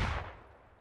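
A single heavy burst from an automatic rifle in a military video game, a deep booming shot decaying quickly, loud and close with no voices.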